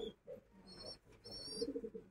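Racing pigeons coo at a home loft in low, soft repeated murmurs with a few faint higher chirps over them, steady and fairly quiet throughout.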